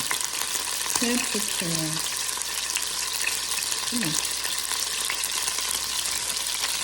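Steady, crackling sizzle of beef frying in a hot Instant Pot Dutch oven set to 400, close and continuous, with brief muffled sounds from the cook.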